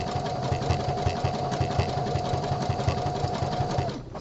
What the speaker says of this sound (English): I just have a little bit better control with the sewing machine